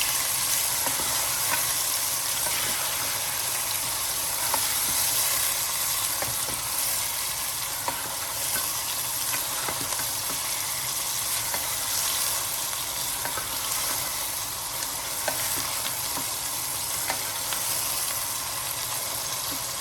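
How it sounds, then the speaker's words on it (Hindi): Mutton sizzles and crackles steadily in a hot pan, with occasional scraping knocks of stirring over a continuous frying hiss. "अब इसमें हम गोश्त डालेंगे। थोड़ा सा गोश्त को भी भूनेंगे।"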